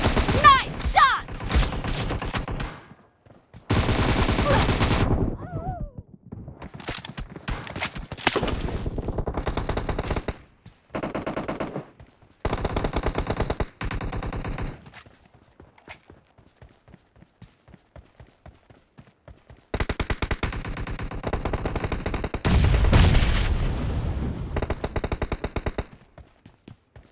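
Gunfire in the mobile game PUBG, with loud bursts of automatic fire and single shots in repeated volleys separated by short gaps of near silence.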